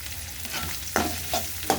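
Onions and vegetables being sautéed with ginger in a pan for vegetable upma, with a low steady sizzle under three sharp spoon clinks against the pan as it is stirred.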